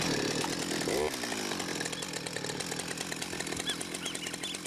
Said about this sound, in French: La tronçonneuse imite à la perfection le bruit de l'ULM.